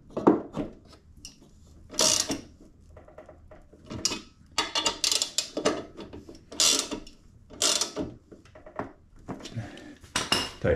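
Ratchet wrench clicking in quick close bursts as bolts are tightened on the deck of a Honda HRN216VKA push mower, with metallic rattles and tool handling between the runs of clicks.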